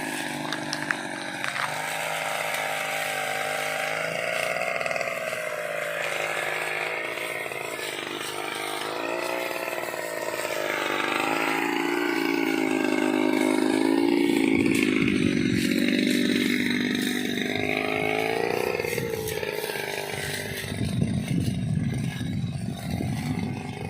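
A petrol grass cutter runs continuously close by in an avocado and durian orchard, its engine whining and rising and falling in pitch as the throttle changes, ending with rougher rattling revs.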